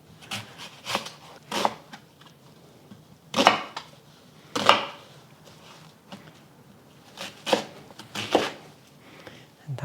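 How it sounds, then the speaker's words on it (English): A knife cuts one large onion into chunks on a board for Hong Kong style curry beef brisket, with scattered sharp chops and pauses between them, close and moderately loud. "I also have 1 large onion that I'm just gonna cut up into chunks"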